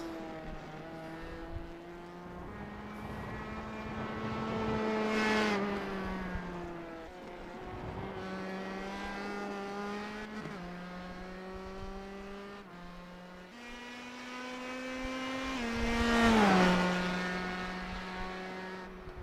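An open-wheel race car in a racing video game laps Indy during individual qualifying, its high engine note climbing through gears and dropping at each shift, continuous and close, with no talking.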